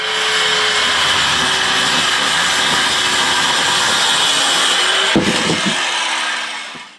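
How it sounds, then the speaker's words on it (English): A circular saw cuts steadily through material with a sustained whine and broadband rasp for about six seconds, then winds down, with a few knocks near the end and no talking. "Let's cut this quickly with a circular saw."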